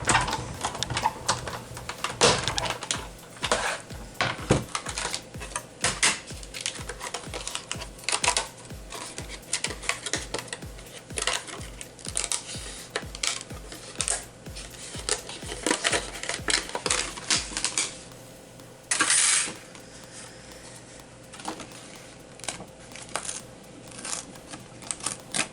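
A die-cutting machine pops and cracks as it presses through paper, a dense run of sharp irregular clicks and snaps lasting throughout, close and fairly loud, with a brief pause near the end.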